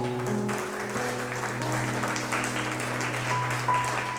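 A church congregation claps for the Lord during a Spanish-language sermon, a dense, continuous wash of many hands spread across the room, steady and fairly loud with a low hum underneath.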